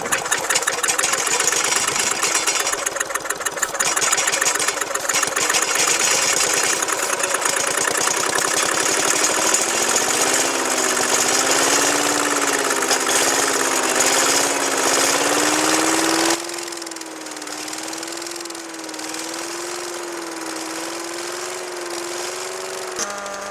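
A restored chipper/shredder's small engine starts and runs steadily and loudly with a rough mechanical clatter, then settles to a lower, smoother running note partway through, with no voices.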